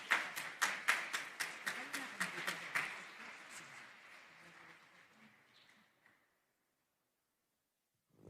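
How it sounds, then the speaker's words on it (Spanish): Applause at an academic lecture starts as a few strong, regular claps, then thins into a softer, scattered patter that fades out to silence. "Recibimos con fuertes palmas a la profesora Cayuso."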